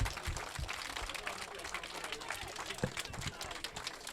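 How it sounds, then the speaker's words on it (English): A crowd at an outdoor anti-fascist parade in Exeter applauding with scattered, uneven clapping and some background murmur, fairly distant and moderate in loudness. "can we give a round of applause to the police"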